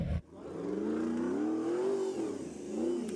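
A Suzuki 4x4 truck called the Sniper revs hard and pulls away on an extreme off-road challenge course, its engine note climbing and wavering loudly for several seconds before easing, with no voices over it.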